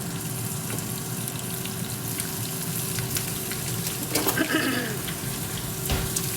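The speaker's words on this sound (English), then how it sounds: "Get these mushrooms nice and cooked up." Pre-cut Baby Bella mushrooms cook in a pan with a steady, close sizzle and frying crackle that hold throughout, with a brief burst of louder bubbling toward the end.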